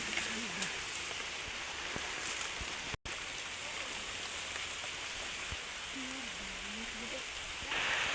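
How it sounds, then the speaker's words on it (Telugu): Steady rain falls outdoors beside a stream during a fishing outing, a constant even hiss with a brief break and no speech. "వర్షంలో మన ప్రయాణం."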